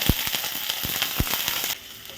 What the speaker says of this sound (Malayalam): ഇതിലേക്ക് കടുക് ചേർത്ത് കൊടുക്കാം ഇതിലേക്ക് ഞാൻ കൊച്ചുള്ളിയാണ് ചേർത്തിരിക്കുന്നത്